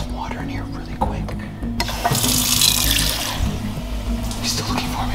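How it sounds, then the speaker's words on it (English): Water pours steadily into a container indoors, a loud, even rush that starts suddenly about two seconds in and continues to the end over a low background hum. "I'm just gonna pour some water in here really quick."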